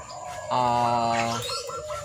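A zebra dove (perkutut) gives one clear, close cooing phrase, a sustained tonal call with rich harmonics that dips and wavers before fading into softer trailing notes.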